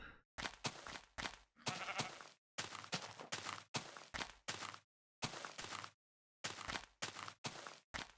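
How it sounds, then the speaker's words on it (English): Sheep bleats in Minecraft come in a rapid series of about a dozen short, nasal calls separated by brief gaps, clear and alone without any talk. "Oh, there's a sheep!"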